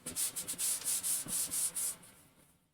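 Antique wax being wiped and pushed by hand over a wood-grain painted sled, giving a run of close, rhythmic rubbing strokes that fade out at the end.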